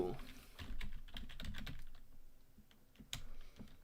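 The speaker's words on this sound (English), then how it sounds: "I'm typing it into CoinMarketCap and it doesn't show up." Fingers tap rapidly on a computer keyboard in quick irregular bursts of clicks, some sharper keystrokes standing out, with a faint voice in the background.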